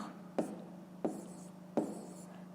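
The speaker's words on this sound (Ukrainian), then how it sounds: "То ми пишемо 7" Pencil or pen writing numbers by hand during a fifth-grade math exercise: three short, crisp scratching strokes about two-thirds of a second apart, close and fairly quiet over a steady low hum.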